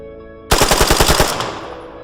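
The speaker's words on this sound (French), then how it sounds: "une rafale de Kalachnikov le rattrape à son tour" A Kalashnikov assault rifle fires one rapid burst of about eight sharp shots in quick succession, loud and close, ending with a short decaying echo.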